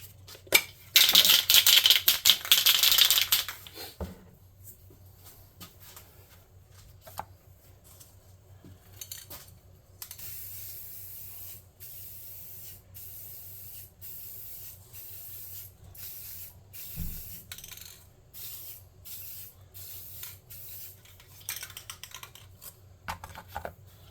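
Spray can laying a flat black base coat on a small tabletop game tent: a loud close hiss lasting a few seconds, then quieter tapping, rubbing and handling sounds.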